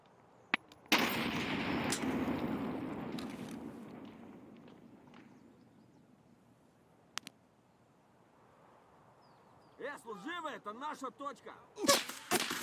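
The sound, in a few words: gunfire from a scav in the video game Escape From Tarkov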